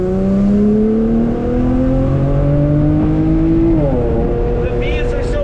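An Infiniti G35 sedan with a big brake kit accelerates hard at full throttle, its engine note climbing steadily and then dropping at a shift, heard loud from inside the car.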